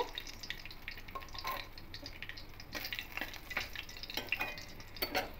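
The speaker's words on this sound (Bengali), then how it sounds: "এবার এই তেলের মধ্যে দারুচিনি, লবঙ্গ, এলাচ ফোড়ন দেব" Whole cinnamon, cloves and cardamom crackle and sizzle in hot oil for a fish-head kalia, with steady frying hiss, small pops and occasional stirring clinks, close and continuous.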